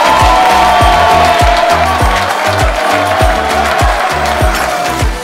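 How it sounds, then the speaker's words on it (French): An audience applauds the first-place winner of an eloquence contest at the Troyes fair: loud, dense, sustained clapping close by, with a strong rhythmic low thumping pulse running underneath throughout. "on va pouvoir applaudir très fort Aaron de la"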